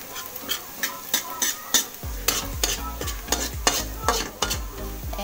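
Garlic sautéing in a pan while a utensil stirs and scrapes in a steady rhythm of repeated strokes, the sizzle rising sharply partway through and continuing under the scraping.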